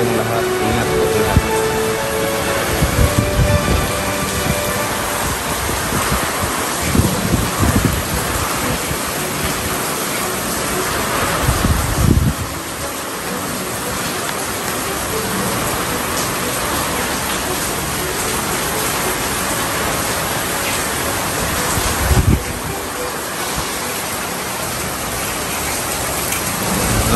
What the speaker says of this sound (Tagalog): May dala itong malakas na hangin at ulan.